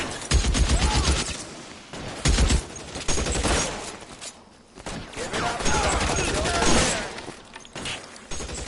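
A shootout in L.A. Noire fires off loud, rapid bursts of gunshots at close range, with one pause before the barrage picks up again.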